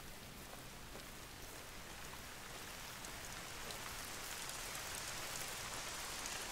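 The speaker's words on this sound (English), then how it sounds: "it's going to start to rain here." Steady rain falls in the hunting game theHunter: Call of the Wild, a dense, even hiss of rainfall on surfaces that holds throughout and swells slightly toward the end, with no voices.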